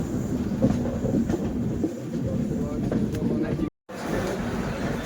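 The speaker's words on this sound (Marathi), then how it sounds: "आपली ट्रेन आता येऊन थांबली आहे हजरत निजामुद्दीन स्टेशनवरती" A train pulling in and stopping at Hazrat Nizamuddin station gives a steady low rumble of carriages and wheels, with no break in level apart from one brief dropout near the end.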